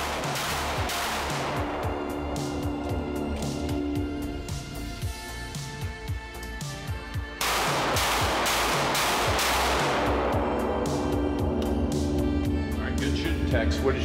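Rapid pistol shots from a Smith & Wesson Shield Plus in .30 Super Carry and 9mm, fired outdoors in a dense string of sharp cracks with a brief pause partway through, loud and close, with talk mixed in.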